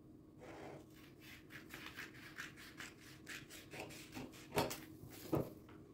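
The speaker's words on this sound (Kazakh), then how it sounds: "Енді осыны қиып аламыз." Scissors cutting through fabric pieces for a sewing bag, a close, steady series of rhythmic snips and rustles, ending with a couple of sharper crisp cuts; no one speaks.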